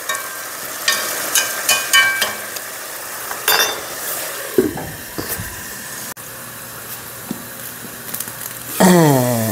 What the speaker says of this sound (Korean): 이제 이렇게 쫄 때까지 계속 은근히 끓여보겠습니다.